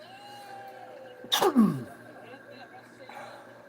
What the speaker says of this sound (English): Sneezing it up.